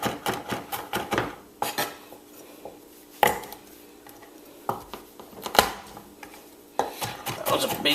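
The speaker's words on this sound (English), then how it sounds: "give that a rough chop as well" A knife chops garlic on a cutting board in a home kitchen, giving sharp, irregular knocks in quick bursts with short pauses between them, close and fairly quiet.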